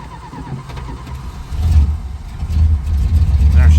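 A 1976 Dodge Coronet, an ex-California Highway Patrol car, cranks and fires up in a shop, its low engine rumble growing louder and settling into a steady idle after about a second and a half, with people talking over it.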